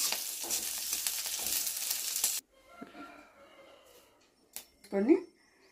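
Okra frying in a pan sizzles with a bright, steady hiss for about two seconds, then cuts off sharply, leaving faint scattered clatter and a short burst of soft talking.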